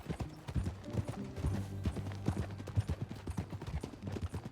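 Horse hooves galloping in the video game Red Dead Redemption 2, a rapid, rhythmic clip-clop of several strides, fairly faint and steady throughout.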